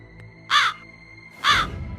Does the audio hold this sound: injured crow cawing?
yes